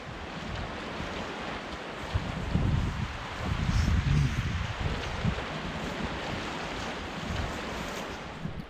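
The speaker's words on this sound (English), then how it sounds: "The sound of the river flowing by" A river flows beside a cycling campsite somewhere in Europe, a steady broad rush of water mixed with wind buffeting the microphone, with no one talking.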